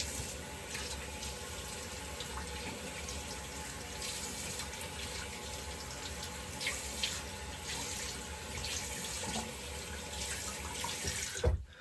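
Water runs steadily from a tap while shaving gear is rinsed, a soft continuous splashing hiss at moderate distance that ends abruptly with a clunk.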